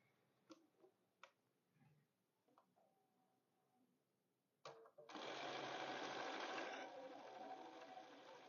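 A sewing machine stitches string quilt strips down onto a paper foundation, starting with a few light clicks and handling taps, then running in a loud, steady burst for several seconds near the end.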